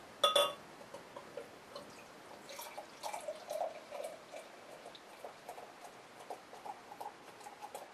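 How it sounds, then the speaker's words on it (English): DuClaw Double Naked Fish stout poured from a bomber bottle into a glass: a sharp cap pop at the start, then a faint, uneven glugging pour with soft splashes and fizz. "Off with the cap, into the glass."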